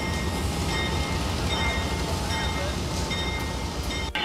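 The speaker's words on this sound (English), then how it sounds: "They're going to pull it out of the roundhouse, put it on the turntable, put it on the track" Rumbling Amtrak Genesis locomotive moving at a roundhouse and turntable, a steady heavy engine drone with faint metallic squeals and rattles, ending in a sharp click.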